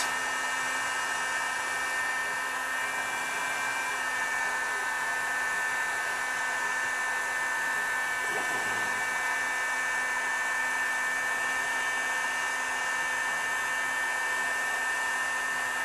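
A heat gun blows on a bumper sticker on an F-150 pickup, giving a constant loud whirring fan hum with a steady high whine throughout, close to the microphone.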